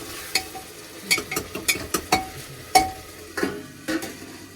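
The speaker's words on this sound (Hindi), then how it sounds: "प्याज और टमाटर काटकर एक बार दोबारा तड़का लगा दिया" Onion and tomato tadka for mixed dal sizzles in a pan while a spoon stirs and scrapes, giving a series of sharp metallic clinks over a low steady frying hiss.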